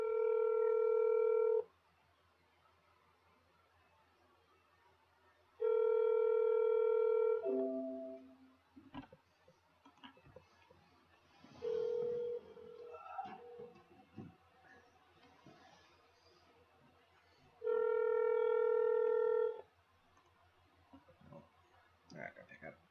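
A telephone gives long, steady tones about every six seconds while calling a senator's office, with soft clicks and faint handling noise between the tones.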